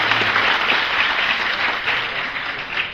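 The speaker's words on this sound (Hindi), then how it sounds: "उनके एक बार जोरदार तालियां हो जाए" Loud, sustained applause from a large crowd at a public event in Chhindwara honoring officials for a free and fair election, a dense wash of clapping that stays steady for the full stretch with no talking over it.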